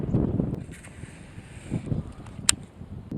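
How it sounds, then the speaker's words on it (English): Low, steady wind rumbles and buffets against the microphone outdoors, with gusty swells and a sharp knock near the end. "The wind is blowing that way."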